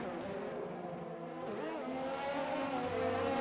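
Formula 1 race cars at the Austrian Grand Prix in a racing video game: high, revving engines rising and falling in pitch as cars pass close, steady and moderately loud.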